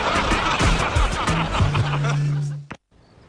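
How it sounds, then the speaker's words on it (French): An old car engine chugging and sputtering with a rough, uneven idle and a steady droning hum, cut off abruptly near the end; voices laugh and chuckle over it. "On dirait le bruit de la voiture du film Chitty Chitty Bang Bang."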